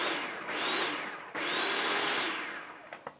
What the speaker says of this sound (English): I am just going to give this a good pulse to just grind up those onions and garlic